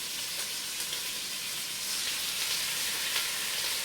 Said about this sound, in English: And you can hear them sizzling because you make sure that your fire is hot